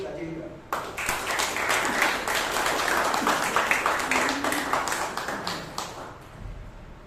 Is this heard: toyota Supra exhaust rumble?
no